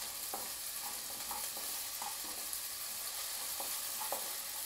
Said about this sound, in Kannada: ಚೆನ್ನಾಗಿ ಈರುಳ್ಳಿ ಫ್ರೈ ಆಗಿರಲಿ